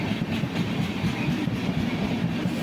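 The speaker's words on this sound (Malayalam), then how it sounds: "ഇത് നമ്മുടെ നേത്രാവതി എക്സ്പ്രസ് ആണ് കേട്ടോ പോകുന്നത്." The Netravati Express passes along the railway with a loud, continuous rumble and rolling rattle of wheels on track, steady and close throughout, without voices.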